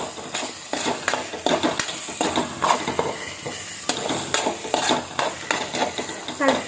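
Salted gongura leaves stirred in a pan on the stove, with a soft sizzle beneath repeated scraping and clinking of a utensil against the metal.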